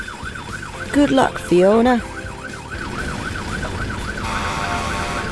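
A cartoon fire engine's siren wails steadily in a rising and falling cycle throughout, with a voice speaking briefly over it near the start.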